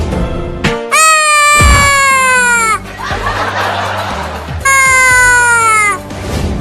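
A cat meowing loudly in two long, drawn-out calls separated by a noisy gap, heard close up amid a playful, comic domestic scene with a child chasing the cat.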